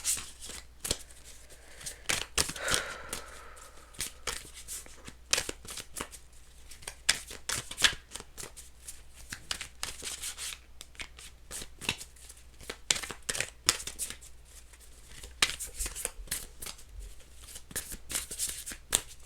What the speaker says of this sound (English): I'm really struggling shuffling today,